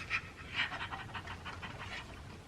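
A puppy pants quietly and rapidly, a soft rhythmic series of breathy huffs close by, faint overall with no voices.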